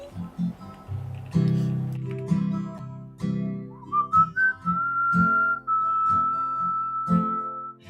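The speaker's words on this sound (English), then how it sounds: "I also attempt to whistle in the song" A person whistles a melody along with a song, a clear sustained pitched line entering partway through over a sung vocal and accompaniment.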